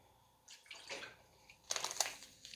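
Warm water pours into a bowl for a gelatin mix in two short bursts, a soft splash followed by a brighter, louder pour, with no talking.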